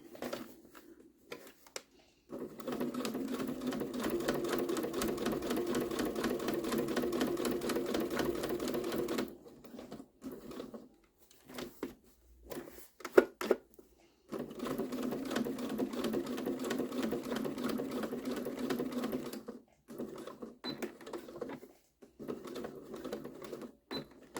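A sewing machine stitching fabric for a two-slot gift card holder wallet, running in long steady buzzing stretches broken by pauses and a few short bursts of stitches, close and moderately loud, with no talking.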